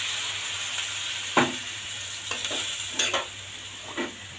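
Water is added to fried fish in a hot pan, giving a steady loud sizzle with a few clinks of a utensil stirring against the pan; no voices.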